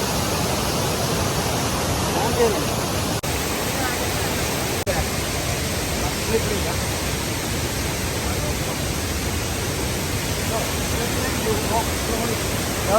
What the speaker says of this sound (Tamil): இருக்கு ஃபால்ஸ்